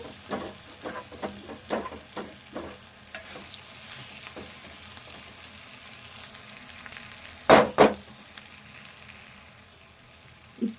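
Eggplant and dried fish curry simmering in a pan, a steady soft sizzle broken by several stirring scrapes of a spoon and a couple of louder clanks against the pan.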